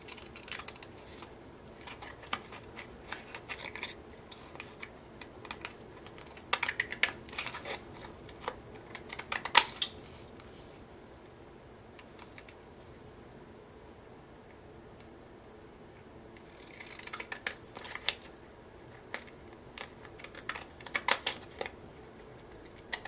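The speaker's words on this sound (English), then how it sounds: "I'm just using some scallop scissors," Scallop-edged craft scissors snipping along a paper edge for a holiday mini album, a faint run of quiet crisp clicks and cuts in short bursts with pauses between.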